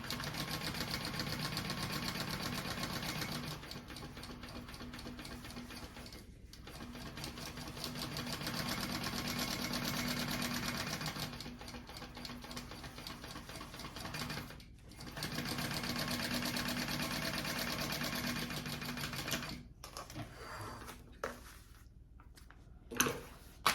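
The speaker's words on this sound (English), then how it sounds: "now I'm going to just baste these two layers together" A sewing machine bastes two fabric layers together for a sling bag, running in long steady bursts of rapid mechanical stitching with brief stops between runs, close and clear.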